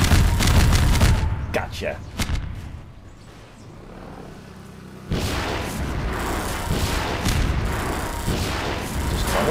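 Rocket explosions in Half-Life 2 hit as heavy booming blasts, loudest at the start and again after a brief quieter stretch, with someone briefly speaking.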